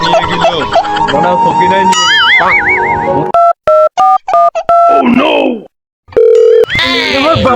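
A telephone rings in a comic Bangladeshi skit: short, loud electronic ringtone bursts cut in after voices and music, pausing between pulses before the sound picks up again.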